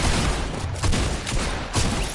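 Shotgun fire in an online multiplayer shooter match, bursts of gunfire blasting repeatedly across a dense, loud wash of game noise, with no clear speech.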